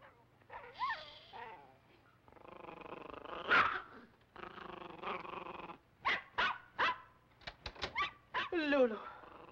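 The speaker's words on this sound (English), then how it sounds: "Bad dog." Dog growling and grumbling in a 1957 film scene, rising and falling in short rumbling bursts with a few sharper yelps near the end, fairly close and clear.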